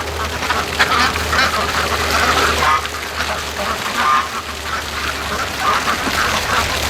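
A flock of scared free-range ducks quacks repeatedly as they run fast, a busy chorus of nearby quacks over low background rumble, with a voice speaking faintly underneath.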